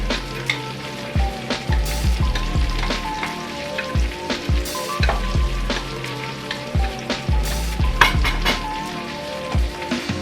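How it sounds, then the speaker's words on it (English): Beef for salpicao sizzles and fries in a pan with mushrooms and earlier-sauteed aromatics, a steady close crackle with occasional sharper stirring clicks and pops throughout, with no talking. "So while we're just letting the beef cook off"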